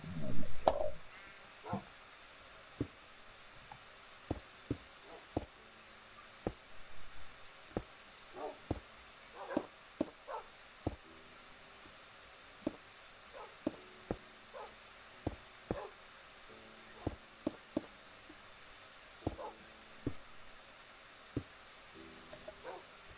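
A dog in the Minecraft video game gives short whimpers and yips among many brief clicking game sounds, repeated throughout, with a person talking over it.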